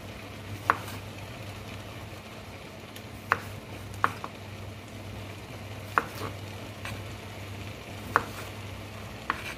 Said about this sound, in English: Just to make the food give it more flavor, we add the tomatoes